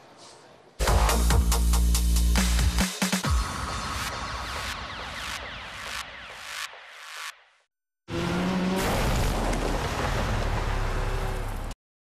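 Touring cars race in a video game, their engines roaring loud and close in two long passes, with tire squeal and gear shifts and a short silent gap between the runs.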